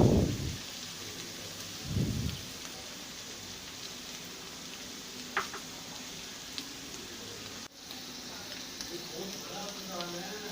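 Boiled, shredded chicken drops into a pan over medium heat, setting off a loud burst of frying sizzle that settles into a steady, softer crackle with scattered clinks.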